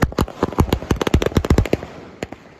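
Diwali sky shot fireworks launch in a rapid string of about fifteen sharp bursts, loud and close, followed by a fading crackle and one last pop.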